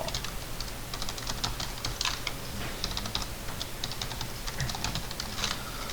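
Rapid keystrokes clatter continuously on a computer keyboard during AutoCAD drafting work, with Enter pressed among the taps, all steady and close against a faint background hiss.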